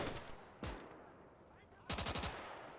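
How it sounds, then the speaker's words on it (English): A PPSh submachine gun in the WWII battle game Gates of Hell, in a city fight, fires a short burst and then a longer rapid string of shots, fairly quiet and distant. "Oh, that's a PPSH."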